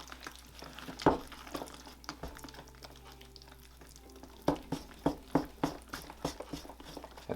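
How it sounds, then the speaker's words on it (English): Alginate mold mix stirred hard in a container, with wet slapping and scraping strokes that speed up into a quick, fairly even rhythm, close and fairly loud, with no talking. "At some point, you're going to really want to start to stir it pretty aggressively."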